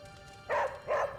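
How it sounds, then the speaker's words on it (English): Charlie the dog in the video game Midnight Suns gives two short, bright barks about half a second apart, clear over a low, steady game background. "Charlie's a full-grown dog"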